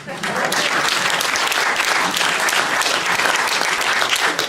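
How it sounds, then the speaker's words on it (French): An audience in a theatre hall applauds loudly and steadily, dense clapping from many hands sustained evenly throughout, with a faint voice or two underneath. "Je crois que vous pouvez déjà vous applaudir."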